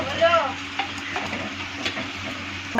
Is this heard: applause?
no